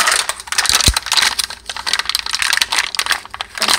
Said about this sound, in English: So first I'll have to open this bag. Sorry if this is loud.